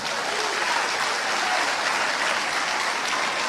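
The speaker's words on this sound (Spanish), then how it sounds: "Un aplauso al Señor." Church congregation applauding during a Spanish-language Christian sermon, a dense, steady wash of many hands clapping together at close range, sustained and even throughout with no speech over it.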